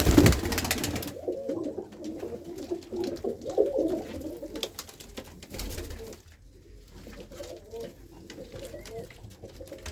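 Pigeons coo in low, repeated throaty calls, fairly close, with a burst of louder noise at the start and quieter cooing continuing throughout.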